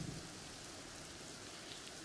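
Rain sound effect during a stage play, a steady dense hiss of falling rain that holds evenly throughout with no pauses.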